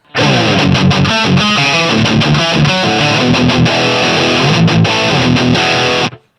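A heavily distorted electric guitar through an amp modeler with its stock cabinet chugs through a dense, loud riff with palm-muted rhythms and brief stops, saturated and bright throughout.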